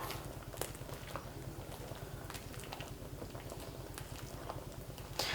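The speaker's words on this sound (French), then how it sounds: "J'ai ma cuillère en bois exprès pour les produits ici" A wooden spoon stirs homemade laundry soap with dissolving Marseille soap flakes, giving a soft, steady, close-up patter and swish that continues under a low background hum.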